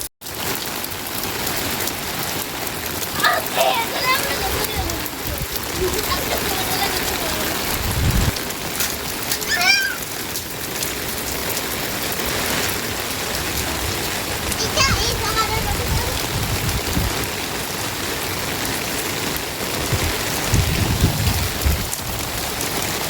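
Heavy rain drums steadily on a rooftop, a loud continuous wash, with faint voices surfacing briefly now and then beneath it.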